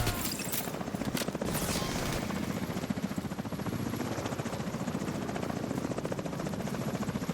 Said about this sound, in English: Yeah, that helicopter are coming.